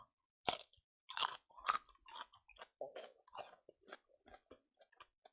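Close, crisp crunching of kimchi being chewed, with wet bites and crackles in a steady irregular rhythm, quiet and intimate with no talking.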